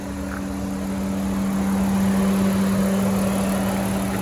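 A 2021 Honda Odyssey Touring minivan idles smoothly and steadily up close, its engine holding a constant low hum with no talking over it.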